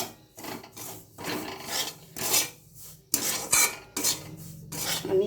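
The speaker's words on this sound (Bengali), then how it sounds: "এই কড়াইতে আমি সুজিটা ভেজে নেব, একটু ভেজে নেব শুকনো খোলায়।" Semolina dry-roasts in a kadai with no oil, stirred in a run of close rasping scrapes that come in uneven bursts with short pauses, and no voices.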